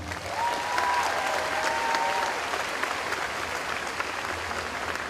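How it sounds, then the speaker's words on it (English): Graduation crowd applause for an honor graduate, a loud, steady sheet of clapping with brief cheering whistles near the start, holding at an even level throughout. "Please, one more round of applause for Bree Somerville."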